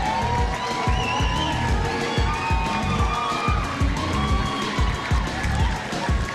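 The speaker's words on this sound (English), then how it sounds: "Everybody give them a round of applause." An audience at a spring reunion dinner applauds and cheers, with sustained clapping, whoops and crowd noise that blend into a loud, continuous wash.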